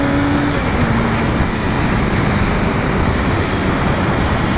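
A 1998 Honda CBR 1100 XX Super Blackbird motorcycle at speed on the road, its engine blending into a loud, steady roar of wind and road noise without a break.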